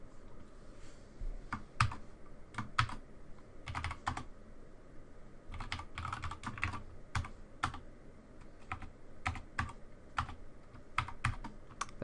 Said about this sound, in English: Now once you type that in, you can save it.